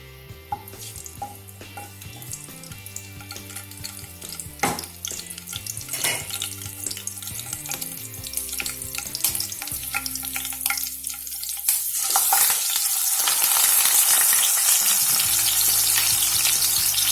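Pink perch fish frying in hot oil in a kadai with curry leaves, a steady sizzle that swells louder and hissier toward the end, with clinks and stirring scrapes alongside background tones.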